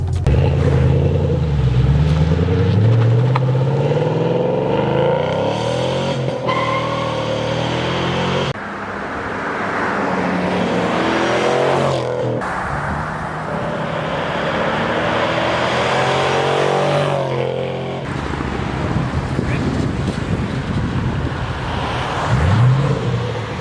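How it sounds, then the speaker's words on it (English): A 2012 Ford Mustang 5.0 V8 with its resonator deleted roars and revs from inside the car, loud and raspy, with repeated accelerations, gear changes and dips back to cruising drone. "The car's louder, it's a little raspier."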